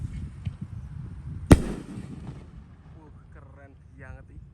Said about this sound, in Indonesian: Ini pelontar yang single ya, sing 1 kali letusan. Kita nyalakan, guys.